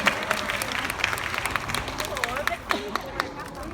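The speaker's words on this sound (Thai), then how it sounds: "เสียงปรบมือด้วยนะคะ" Studio audience applause during the taping of a Chinese New Year episode of a Thai variety show, a dense patter of claps with shouts and chatter mixed in.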